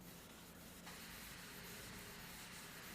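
Body filler on a VW Passat is sanded with a steady, unbroken abrasive rasp that stays close and fairly loud throughout, with no talking.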